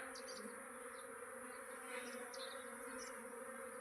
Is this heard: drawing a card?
no